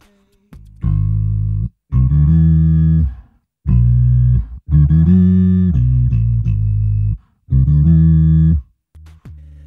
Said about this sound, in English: with this effect you can produce bass lines, but they sound horrible